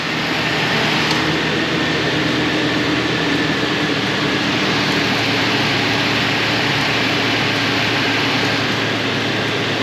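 A Mazda B2300 truck idles with its air conditioning running, giving a loud, steady broadband whir and hum that stays constant throughout with no talking.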